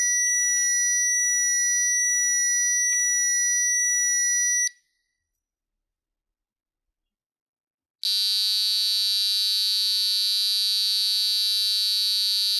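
A piezoelectric buzzer on an Arduino, driven by the tone function at 100 Hz, emits a shrill, steady electronic tone. It stops for a few seconds of silence, then comes back with a brighter, buzzier timbre until the end.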